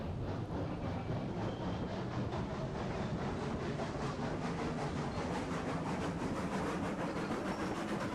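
A Cooke Mogul steam locomotive in Railroads Online pulls out with four hopper cars, giving a steady, continuous rolling rumble with faint rhythmic clatter that holds at an even level throughout.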